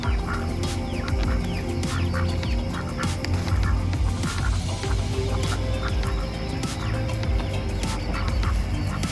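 Pet male ducks give soft, raspy quacks and low calls in short bursts across a busy outdoor backyard background, with other birds and steady ambient noise around them.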